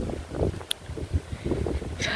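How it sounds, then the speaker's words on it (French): Gusts of wind buffet the microphone in low rumbling bursts, uneven and close, with a faint voice murmuring underneath. "J'espère que vous m'avez entendu à cause du vent."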